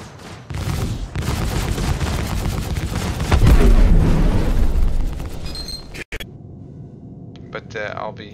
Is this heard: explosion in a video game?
yes